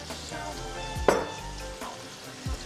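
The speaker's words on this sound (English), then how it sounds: "I'm going to cook the shrimp for about 3 minutes on each side, then they'll be done" Shrimp frying in a pan, a quiet steady sizzle with a sharper spatter or scrape near the middle, close and low in level.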